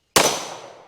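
A single gunshot fired with Hornady Critical Defense 115 FTX ammunition: one sharp, loud crack that rings out and decays over most of a second, with nothing else around it.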